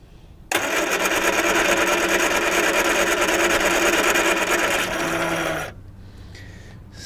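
An abandoned 1978 Triumph Spitfire that sat for years cranks hard on its starter, a loud steady whirring churn lasting about five seconds that sags briefly before cutting off, without the engine catching.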